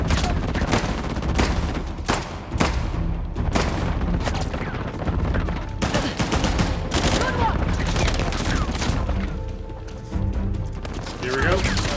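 Rapid bursts of gunfire and booms ring out in the video game Uncharted: The Lost Legacy, with many sharp, loud shots across the whole stretch and a voice talking over the fighting at times.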